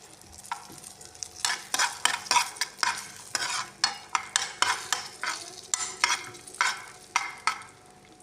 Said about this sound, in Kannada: ಗೋಡಂಬಿ ಹುರ್ಕೊಳಕೊಂತೀನಿ